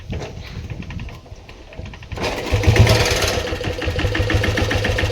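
A Bullet motorcycle engine starts up after a quieter stretch, then runs with a steady, loud mid-pitched thump that grows slightly stronger toward the end, heard outdoors in a village.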